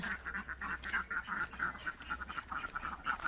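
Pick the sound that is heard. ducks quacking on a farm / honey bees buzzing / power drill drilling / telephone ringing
ducks quacking on a farm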